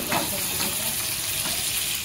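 Mackerel wrapped in turmeric leaves fries slowly on low gas, giving a constant near sizzle and hiss that stays level and unbroken, without talk.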